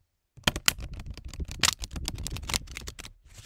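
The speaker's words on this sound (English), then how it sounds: "then I am going to do a great big shuffle." Rapid riffle of playing cards being shuffled, a dense crackling flutter of snapping cards lasting a few seconds, close up with no talking.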